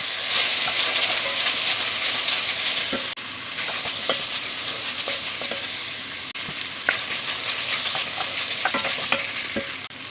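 Onions frying with bacon in a Dutch oven, a loud, dense sizzle close up, with scraping and clinking from stirring and short gaps where the sound briefly drops.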